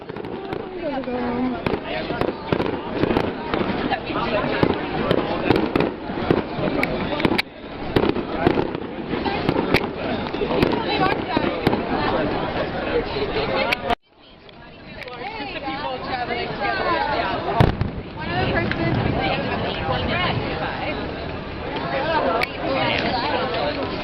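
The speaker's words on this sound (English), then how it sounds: "And now I have a craptastic clip of some fantastic fireworks." Fireworks burst and crackle continuously with dense popping in Orlando, under a murmur of crowd chatter, briefly dropping out midway before resuming.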